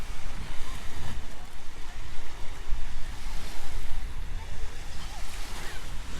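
Sea waves wash onto Alcudia beach in Mallorca, a steady broadband surf with soft rolling swells and some low wind rumble throughout, fairly close.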